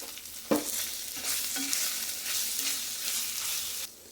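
Onions fry with turmeric in a pan for chicken pulao, a close, steady sizzle broken by a sharp knock and a few stirring scrapes before it cuts off.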